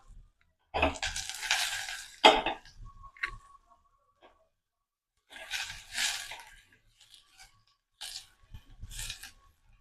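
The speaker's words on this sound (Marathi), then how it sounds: "कांदा गुलाबी झालाय काही गाजराचे तुकडे घालतो" Carrot pieces added to pink-fried onion in a pan for creamy carrot soup, giving bursts of loud sizzling and stirring clatter separated by quiet gaps, close and alone.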